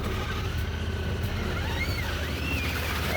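A Honda Pioneer 1000 side-by-side drives along tight wooded trails, its engine giving a steady, continuous rumble close by for the whole stretch, with some whining mechanical tones rising and falling above it and no talking.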